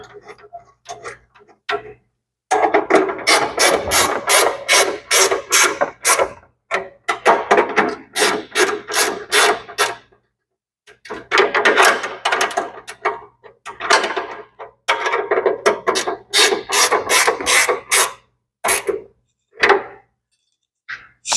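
A Milwaukee ratcheting wrench tightens bolts on a Case IH 7250 Magnum tractor's cooling system, with rapid close clicking ratchet runs in bursts of several seconds, separated by short silent pauses.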